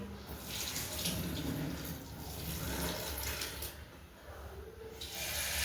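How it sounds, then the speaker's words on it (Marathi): Water streams steadily into a pot of rinsed broken wheat (dalia) in a continuous, fairly quiet splashing pour, with no voices. "आता आपण यामध्ये थोडंसं पाणी ॲड करून घेणार आहोत"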